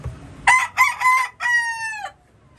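A white kelso gamefowl rooster crows close by on a gamefowl farm, one loud cock-a-doodle-doo in several choppy bursts ending in a long drawn-out note, with no talking.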